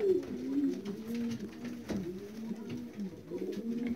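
Racing pigeons coo continuously nearby as they arrive from a race, soft throaty warbling calls overlapping with faint background noise.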